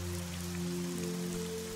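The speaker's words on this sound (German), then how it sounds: "du kannst immer weiter die langsamen Regentropfen beobachten, die in Zeitlupe in die Tiefe fallen" Steady rain with raindrops pattering continuously over a low humming drone, an even wash of soft droplets that stays constant throughout and has no voices.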